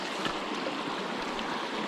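A mountain creek beside a trail flows in a continuous, close rushing wash, steady and fairly loud with no voices over it.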